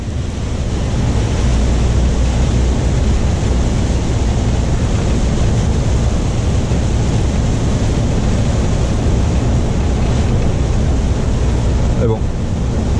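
Heavy, continuous wind buffeting the microphone with a dense rushing wash like driving rain, loud and unbroken for the whole stretch.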